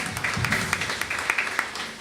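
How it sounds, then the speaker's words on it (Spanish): Church congregation applauding together, a steady dense patter of claps carrying on for a couple of seconds at moderate level. "Dale ese aplauso fuerte a la palabra de Dios."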